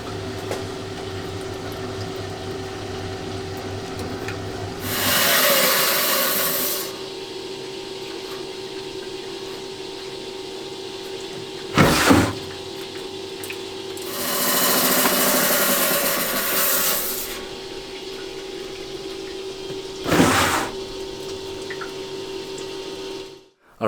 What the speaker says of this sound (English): I just want to open up the center a little bit more by placing a cut that's maybe 3 millimeters thick to open up the center in this stone